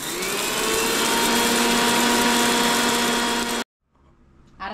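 A kitchen mixer grinder whirs loudly and steadily, powdering roasted mustard and fenugreek seeds in its jar for tomato pickle, then stops abruptly, leaving near silence before faint sounds return.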